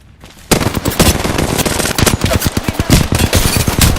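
Rapid automatic gunfire in the battle royale game Apex Legends starts abruptly after a quiet half second and then hammers on loud and close in dense bursts for the rest of the clip.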